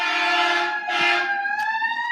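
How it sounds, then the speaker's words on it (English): A wailing emergency siren sweeps up and down in pitch on Colfax in Denver, loud and close, with a brief second tone cutting in near the end. "You get a lot of sirens here."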